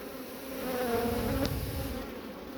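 Honey bees buzz close around a hive at a coastal apiary, a steady hum that briefly swells as one passes near, with no voices.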